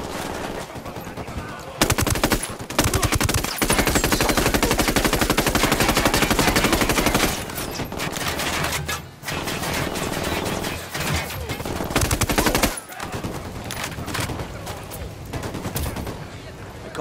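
Sustained automatic gunfire from the tactical shooter Ghost Recon Wildlands, loud and close, with long dense bursts and brief pauses, and voices calling out now and then beneath the shooting.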